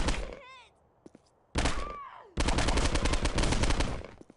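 Rocket launcher fire in the game Postal 2, heavy thumping blasts with whooshing, whining tails, then a dense, loud barrage of rapid explosive reports that runs for several seconds.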